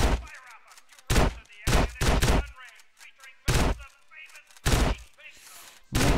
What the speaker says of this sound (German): Ich möchte mal probieren, ob man so zwischen die Dinger schießen kann.